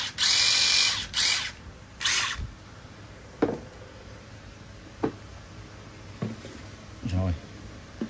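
Hitachi 18V cordless screwdriver drill run in short bursts: several brief motor whirs with clicks and pauses between them, near and fairly loud, under occasional talk.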